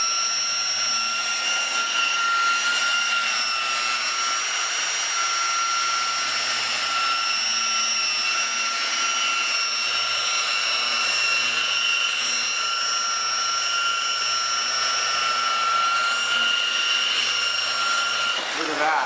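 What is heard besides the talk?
buffing car paint with a polisher pad at low RPM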